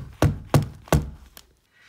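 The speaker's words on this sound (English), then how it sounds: "Should I knock on the door?" Three firm, evenly spaced knocks on a door, followed by a softer fourth tap, close by with no talking.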